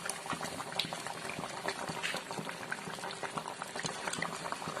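Fish head curry boils steadily in a pot, a dense, continuous bubbling with crackling pops, close and even throughout with no talk.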